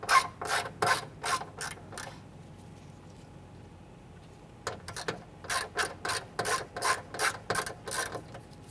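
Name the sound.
ratchet removing 7/32 screw from Ford Explorer door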